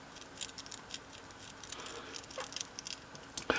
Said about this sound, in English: going to hear a gritting noise there